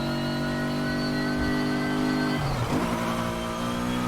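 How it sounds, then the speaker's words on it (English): Sustained engine drone with a high supercharger whine from a car in Need for Speed Heat, tones holding steady, then dipping briefly as if shifting before climbing again. "I didn't think that this engine had that engine whine and that supercharger whine in here."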